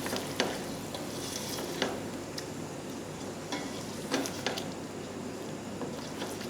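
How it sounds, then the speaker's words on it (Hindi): Masala frying with yogurt added bit by bit for mutton paya, a steady close sizzle with occasional scrapes and clicks of a stirring spoon in the pan. "इसमें दही थोड़ा थोड़ा करके शामिल करते जाएंगे और इसको भूनते जाएंगे।"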